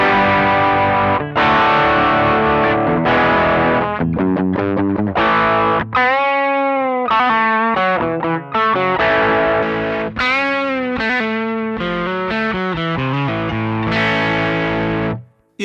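Crunchy, distorted rock tone from an electric guitar played through a Thermion Freeway amp with an HRM V2 external preamp, loud and continuous with chords and single-note lines, alone with no talking.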